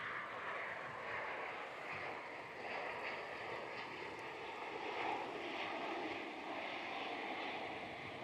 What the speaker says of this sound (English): Touching down here on runway 34.